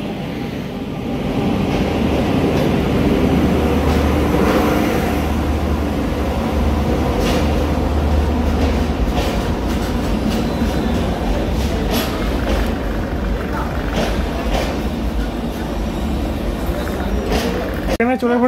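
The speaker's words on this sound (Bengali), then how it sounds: "এবং কোনার্ক এক্সপ্রেস ইন করছে 6 নম্বর প্ল্যাটফর্মে।" Konark Express, the Bhubaneswar–Mumbai train hauled by a Vizag-shed WAP-7 locomotive, rolls in at platform 6 with a steady, heavy rumble and rattling wheels that hold close and loud throughout, with voices mixed into the station noise.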